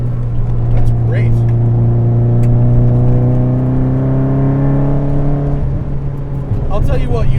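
A modified Nissan S13 240SX with a turbocharged SR20 engine swap pulls hard from inside the cabin, its engine note climbing steadily for several seconds before a shift drops the pitch, loud and close.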